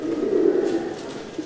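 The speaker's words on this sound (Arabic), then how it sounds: "هذا الحمام يا جماعه الخير اسمه الحمام البرتغالي." Portuguese pigeons at a rare-bird show in Mönchengladbach, Germany, giving a low steady cooing at close range amid faint background hall noise.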